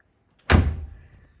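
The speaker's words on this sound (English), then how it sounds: "Close the door." A 1970s Mercedes W114 250C coupe door shutting once with a solid, close thud that rings out briefly, after a window adjustment.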